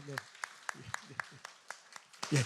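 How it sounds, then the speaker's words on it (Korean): A church congregation breaks into brief applause during a Sunday service, a few scattered sharp claps spaced out over speech that continues throughout. "우리 한번 축복의 박수 하도록 하겠습니다"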